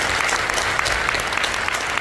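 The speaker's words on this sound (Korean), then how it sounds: "여러분들 자신을 위해서 박수 한번 쳐주세요." A seminar audience gives steady, dense applause, many hands clapping loudly and continuously with no voices over it.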